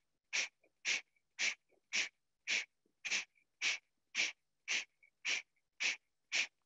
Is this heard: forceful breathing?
yes